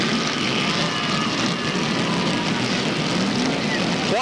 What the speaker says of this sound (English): 25 cars strong coming to life on the front straightaway.